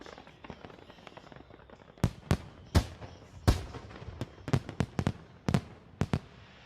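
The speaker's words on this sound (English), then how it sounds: "Beautiful fireworks." New Year fireworks bursting in a rapid, irregular string of sharp cracks and booms, some loud and close, others fainter, with no talking.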